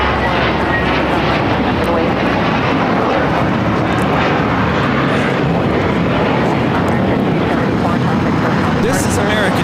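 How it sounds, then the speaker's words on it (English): American Airlines A321 jet taking off from LAX for JFK, a loud, continuous engine roar at constant strength, with voices talking beneath it. "This is American Airlines 274 taking off to JFK on the A321"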